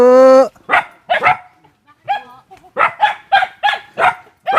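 Several dogs bark repeatedly at a visitor, loud and close, in quick uneven bursts with a short howl-like whine at the start.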